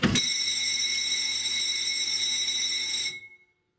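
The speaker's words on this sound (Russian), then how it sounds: "Работает только звонок." An electric bell on a sawmill rings as a steady, loud, metallic tone for about three seconds, then cuts off abruptly and fades into silence.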